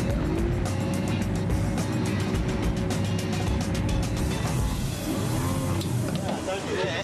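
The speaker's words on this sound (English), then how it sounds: "Full of confidence, Raymond manoeuvres his dinghy towards the perfect drop-off spot." Small dinghy outboard motor droning steadily while the boat heads out toward a sea diving spot, a loud, close, continuous engine roar with wind and water noise, and a voice talks over it.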